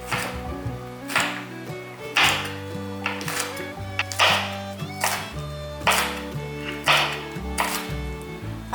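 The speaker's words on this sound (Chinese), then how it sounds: "先把蒂头切掉，这里的部分切成细丝。" A knife slices glutinous rice peppers into thin strips on a cutting board, about a dozen crisp, evenly spaced chops close up under soft background music, with no talking.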